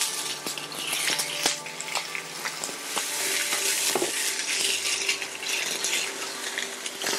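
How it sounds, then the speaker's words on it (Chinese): Grouper bones and skin pan-fry in a hot wok until golden, a continuous close crackling sizzle with scattered pops and occasional soft clinks from utensils. "我们让它的这个表皮稍微煎了一个金黄色这样子的方式"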